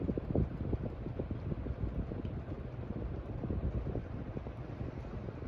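A Hampton Bay Carousel 52-inch ceiling fan moving air, giving a steady, fairly loud rushing whoosh with a continuous low rumble, like wind buffeting a nearby microphone, with no talking.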